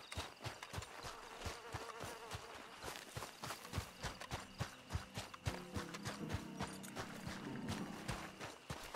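Horse hooves clip-clop in Red Dead Redemption 2, a steady walking rhythm of soft, fairly quiet hoofbeats with faint ambient game sound behind them.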